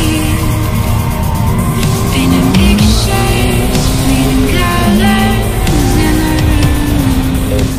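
A race car driven hard on a fast lap around a road course, its engine loud and close and continuously howling, with repeated gear changes and surges in pitch throughout.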